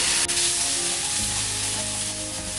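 Tomatoes added to a hot pan of frying masala for chicken tikka biryani, giving a loud, steady, close sizzle that continues without speech.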